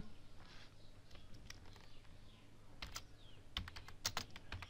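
Close typing on a computer keyboard over a steady background hiss, soft irregular key clicks at first, then sharper, quicker bursts of keystrokes toward the end, with no speech.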